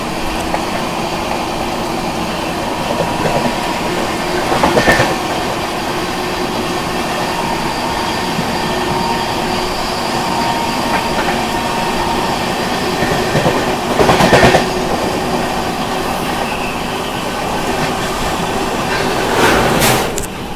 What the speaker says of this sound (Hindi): चलिए दोस्तों ओवरटेक कर रहे हैं हम लोग कामाख्या दिल्ली ब्रह्मपुत्र मेल।